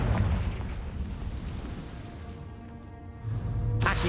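A Confringo spell explosion in the video game Hogwarts Legacy, a loud rumbling boom with a burst-like roar that fades out, then another blast flaring at the end.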